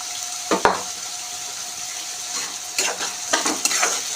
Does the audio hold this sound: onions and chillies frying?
yes